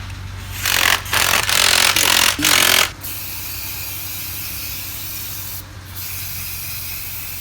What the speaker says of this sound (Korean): 장착될 면을 잘 닦아주고요